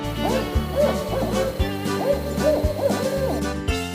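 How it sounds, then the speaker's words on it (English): An owl hooting repeatedly in soft, evenly spaced calls, clear and unaccompanied by voices, set over a continuous low musical background. "It is an owl."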